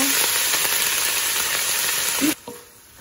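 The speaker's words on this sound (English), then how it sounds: "I think it's done, our stir fry" Stir fry with vinegar and pepper sizzling loudly in a hot pan, a dense steady hiss that cuts off abruptly near the end, leaving a faint quieter sizzle.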